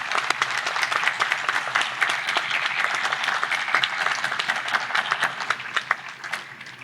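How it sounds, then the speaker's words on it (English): Commencement audience applauding an honorary Doctor of Laws recipient, Justice Cameron, at a law school ceremony: dense, steady clapping from a large crowd that holds an even level for the full stretch, with no speech over it. "Huge round of applause for Justice Cameron."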